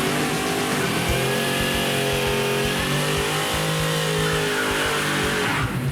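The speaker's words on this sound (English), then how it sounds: "Kind of a quiet burnout." A 1952 Kaiser Henry J drag car does a burnout at the strip, its engine droning steadily at mid pitch with rising harmonics, fairly subdued and continuous, ending abruptly.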